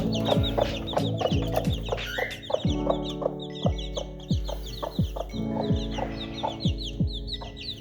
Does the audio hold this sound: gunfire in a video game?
no